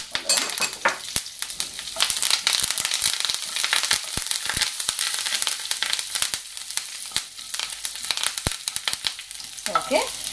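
Curry leaves hitting hot oil with fennel seeds already in the pan, a loud crackling sizzle of dense sharp pops and spatters, close, continuous, with a faint voice near the start and end.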